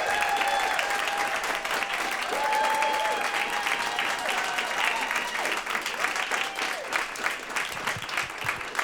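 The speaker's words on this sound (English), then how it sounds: "thank our amazing nurse chorus one last time with a huge round of applause" A large audience gives a sustained round of applause for a nurse chorus at a theatre finale, dense clapping throughout with a few brief tonal calls or cheers rising above it.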